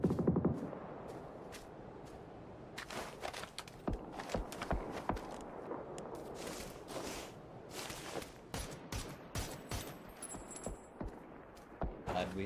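Gunfire crackles through a video game match, scattered bursts and single shots of varying distance popping over a low background bed, loosening into irregular clusters of sharp reports.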